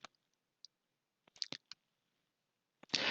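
A computer mouse clicks a few times while downloading software in a browser on Windows, sparse sharp clicks close to the microphone in near silence, ending with a burst of noise.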